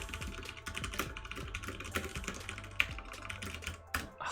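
Steady close typing on a computer keyboard, rapid irregular key clacks running throughout with a few louder strikes, alone without talk.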